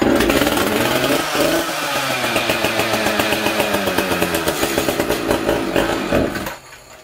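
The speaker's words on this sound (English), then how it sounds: "Was just priming it there, pulling it over with no choke." An Echo CS-590 chainsaw fires up and runs close by, a loud, steady engine drone with rhythmic pulsing throughout before it cuts off abruptly near the end.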